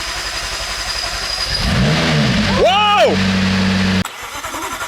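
A wrecked McLaren 675LT engine cranks, catches and revs up with a rising, wavering roar, settles briefly, then cuts off abruptly; a voice exclaims over it.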